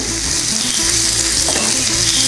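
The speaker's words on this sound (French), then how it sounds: "On va rajouter une grosse cuillère d'ail, un tout petit peu de gingembre et on va continuer à remuer" Onions, garlic and ginger frying in a pan while being stirred: a loud, dense, continuous sizzle up close with soft scraping strokes of the spoon underneath.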